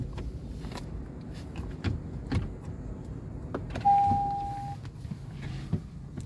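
A new car's electric power window motor runs with a steady whine for about a second, close by, among scattered clicks and handling noises with no talk.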